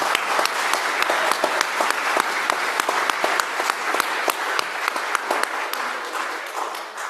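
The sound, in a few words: applause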